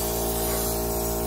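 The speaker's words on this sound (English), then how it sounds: "I'm going to be spraying those with John's Cash Blue" Spray gun misting pottery glaze onto plates, a steady loud hiss with a constant compressor hum underneath, unbroken throughout.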